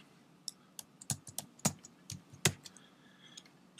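Password keys are typed on a computer keyboard at a Windows Vista account setup, as an irregular run of close, crisp clicks and taps with short pauses between the keystrokes and no speech.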